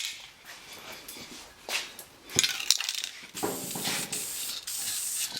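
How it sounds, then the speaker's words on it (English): Aerosol paint sprayed onto a 1946 Ford, steady close hissing bursts with short pauses between passes and a few small metallic clicks, no talking. "watching a dude spray paint some stuff"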